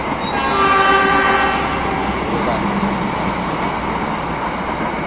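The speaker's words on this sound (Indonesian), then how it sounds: "kereta. Dari sana. Ini kereta." A train rolls past a railway level crossing nearby, its horn sounding in long tones early on over a loud, continuous rumble of wheels and traffic, with people talking in the background.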